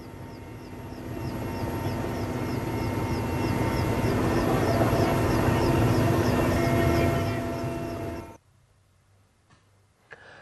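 A relief helicopter flying over a flooded area, its steady rotor and engine drone loud and continuous for several seconds before cutting off abruptly into near silence.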